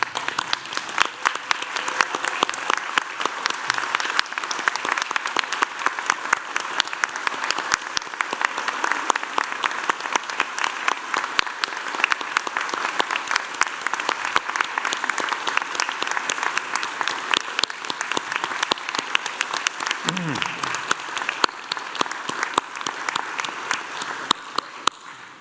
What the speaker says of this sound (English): join me by standing and applauding the wonderful achievement of our graduates